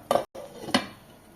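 A metal lid set onto a pot of simmering egg gravy, two short close clanks about half a second apart followed by a brief ringing fade.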